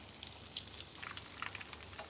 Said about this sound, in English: the crumb frying up in the oil